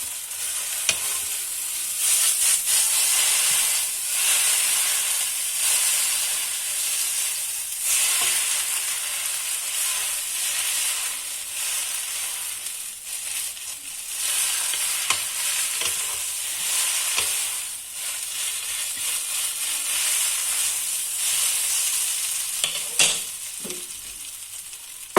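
Chicken noodles with vegetables being stir-fried in a pan give a steady, close sizzle lasting throughout, with repeated scraping and stirring clatter and no talking.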